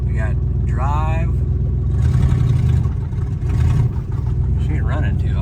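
A long-idle GMC Caballero's engine runs steadily up close and shifts through reverse and drive, with someone talking over it throughout.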